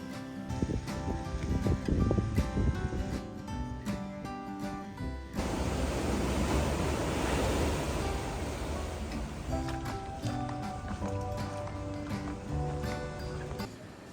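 Ocean waves washing onto a quiet beach in Puerto Vallarta, a steady broad rush of surf with a louder swell midway, mixed with wind noise and faint background music.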